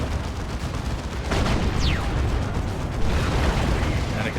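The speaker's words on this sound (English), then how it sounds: "Just a cacophony of guns" Gunfire in a Warhammer 40k: Dawn of War 2 battle, a dense, constant clatter of shots and blasts, with a brief whistling streak in the middle and heavier impacts toward the end.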